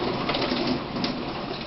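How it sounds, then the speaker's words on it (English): Steady rain falls outdoors during a thunderstorm, making a dense, continuous hiss with faint low rumbling underneath and no voices. "there is a big-ass thunderstorm moving through"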